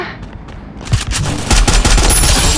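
Gunfire in the Garena Free Fire video game: a loud, rapid burst of automatic shots swells into a sustained, dense volley of fire.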